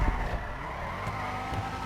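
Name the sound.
car drifting with tire squeal in video game GTA 5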